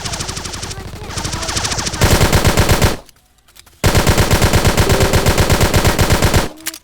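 Gunfire from a pistol and rifle in the Fortzone battle royale video game, rapid loud automatic bursts in fast rhythmic volleys, a brief pause, then another sustained burst, with no talk.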